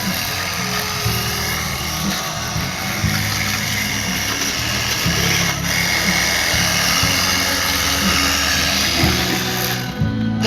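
Several motorcycles ridden past by a group of riders, their engines droning and buzzing steadily at close range throughout, with no talk.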